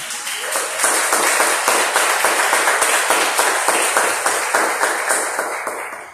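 A church congregation claps steadily and rapidly together, dense applause holding for several seconds before tapering off, with no talk over it.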